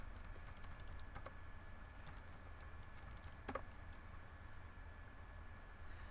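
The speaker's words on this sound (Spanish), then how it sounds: "Y introducimos una nueva contraseña." Fingers typing a new password on a computer keyboard, a faint run of quick, irregular key taps with a slightly louder clack near the middle, over quiet room hiss and without talk.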